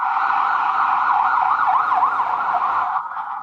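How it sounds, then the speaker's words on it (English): An ambulance siren wails loudly and close by, its rising and falling tone holding steady for about three seconds before it fades slightly at the end. "An ambulance arrived"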